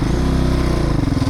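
Husqvarna TC 450 off-road motorcycle engine running close and loud, a steady throbbing idle with a slight rise in pitch, no talk.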